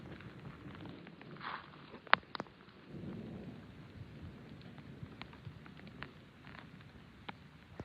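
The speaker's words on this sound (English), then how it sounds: "it actually rained and had more thunder" A country thunderstorm near Corson, South Dakota, with faint steady rain and a few sharp distant thunder cracks and rumbles over quiet background.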